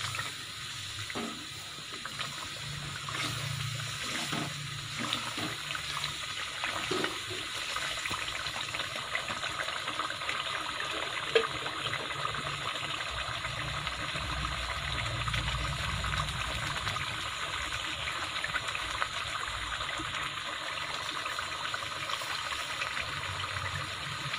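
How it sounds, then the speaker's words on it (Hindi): Water poured into a pan of poppy seed curry masala makes a steady gushing, faucet-like running flow, constant and moderately loud, with a few light clinks near the start. "थोड़ा सा पानी ऐड करेंगे ताकि मसाले जो अच्छे तरीके से मिक्स हो जाएं,"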